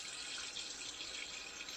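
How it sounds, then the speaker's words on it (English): Tap water runs steadily into a pot for canning green beans, giving a faint, continuous hiss and splash with no talk. "put water in your pot."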